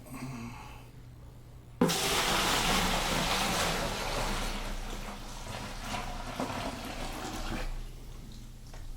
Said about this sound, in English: So I'm gonna start pouring it into the bucket.